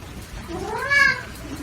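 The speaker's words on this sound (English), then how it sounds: "first my cat's gonna come up" A single drawn-out cat meow, rising and then falling, heard close by over quiet background noise.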